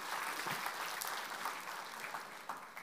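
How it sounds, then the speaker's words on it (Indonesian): A church congregation applauds at a Sunday service, a steady wash of many hands clapping that fills the room, fairly loud and continuous with no one speaking over it. "Berikan tepuk tangan yang terbaik kepada dia"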